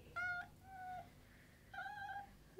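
A young male kitten cries with three loud, drawn-out meows close by, separated by brief quiet pauses in an otherwise calm indoor room.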